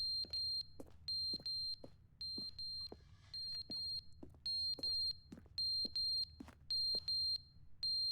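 Repeating electronic beeping alarm from the video game The Stanley Parable, sounding in steady bursts of rapid high beeps separated by short gaps, loud and continuous over a low background hum.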